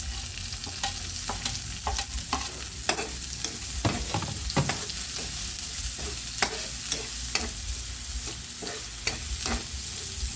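Garlic browning in oil in a pan, a constant sizzle with repeated scraping clicks of a utensil stirring it, close and steady throughout.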